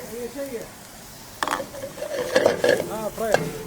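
Minced meat frying and being stirred in a pan as onion is added, with sizzling and scraping stirs that grow busier partway through, while a voice talks over it.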